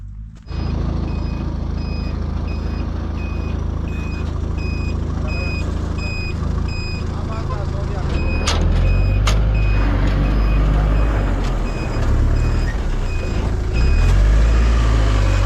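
A commercial vehicle reverses on a village olive-harvest weekend, its backup alarm repeating in steady, evenly spaced beeps over a heavy diesel rumble. A couple of sharp air-brake hisses cut in midway, and the engine grows louder near the end.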